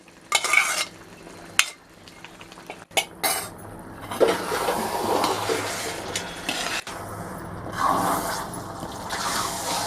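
Marinated prawns being stirred into a masala in a pan, a spatula scraping and clattering against the metal over a steady soft sizzle, close and alone without talk.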